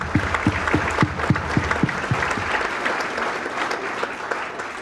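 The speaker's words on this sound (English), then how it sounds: "let's give a round of applause for the City of Prescott" Audience applause at a State of the City event for the City of Prescott, sustained and full-bodied clapping from a sizable crowd, steady throughout without any speech.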